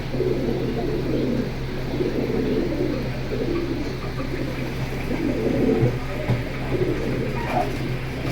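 Pigeons in a collection coo in a steady low murmuring chorus, layered and continuous, over a constant hum, with faint chirps and rustling mixed in.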